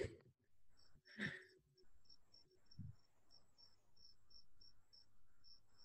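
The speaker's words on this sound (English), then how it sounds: "Someone has a cricket in their house." Indoors, a cricket chirps in short high pulses at a steady, even rhythm, faint and persistent, while a few brief knocks and rustles sound near the start.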